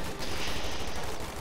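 Sustained .50 cal machine gun fire rattles loud and close in a real-time strategy battle, a dense continuous burst of rapid shots layered with distant gunfire, no voices.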